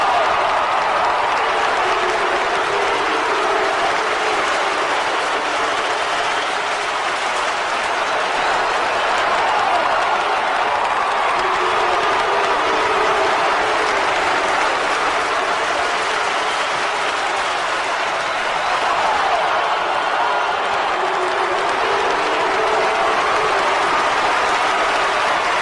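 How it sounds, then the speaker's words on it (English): Wrestling crowd in Portland reacting with steady, sustained noise of cheering, clapping and mixed murmuring throughout, loud and continuous with no clear breaks. "A mixed reaction here from the Portland crowd"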